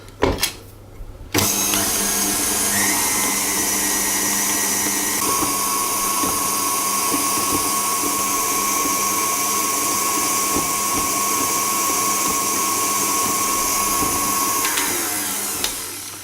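An electric mixer creaming butter and dark brown sugar for blueberry oat cookie dough, a steady loud whirring motor hum that starts after a brief clatter and runs continuously before easing off at the end.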